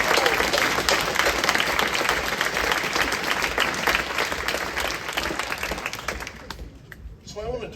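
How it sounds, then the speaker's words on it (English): Sustained applause from an audience at a water-conservation celebration event, a dense roar of many hands clapping that rings out steadily for several seconds and then thins and fades near the end. "So I can hardly stand not just giving them another round of applause."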